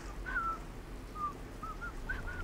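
A man whistles a few short, wavering tune fragments with small gaps between them, fairly close, over a steady low background hum from video game play.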